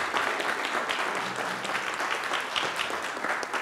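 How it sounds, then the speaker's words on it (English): A community meeting audience claps steadily and fairly evenly for a few seconds, a dense patter of many hands filling the room without any talk. "why don't you give yourselves a round of applause"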